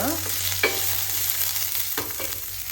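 Onion, green chilli and garlic fry in a pan with a continuous bright sizzle, close and fairly loud. Two or three quick stirring scrapes cut through it, and no voice is heard.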